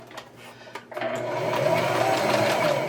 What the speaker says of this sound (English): I don't need to backstitch because I'm going to end up stitching around that